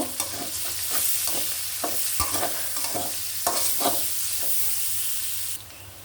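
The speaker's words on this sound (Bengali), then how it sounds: "এখানে দিয়ে দিচ্ছি বেশ কিছু পেঁয়াজ কুচি কয়েকটা কাঁচামরিচ আমি একটু ভেজে নিব" Chopped onions and green chillies fry in oil in a pan for a katla fish and ridge gourd dish, with a steady sizzle, repeated spatula stirs and scrapes, then the hiss suddenly drops near the end.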